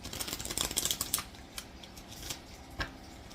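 A tarot deck is shuffled by hand in a quiet room: a quick burst of riffling, flapping card sounds for about a second, then a few isolated soft taps and slides.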